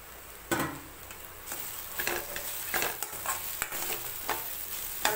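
Salt, garlic and grated coconut are stir-fried, with repeated scraping strokes of a spatula every half second or so over a soft, continuous sizzle, no voices.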